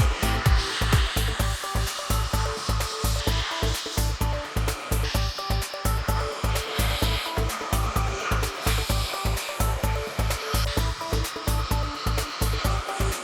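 A hair dryer blows on a freshly cut face-framing fringe, a loud steady whoosh broken into a fast regular pulsing as the airflow is brushed or moved through the hair, with no talking.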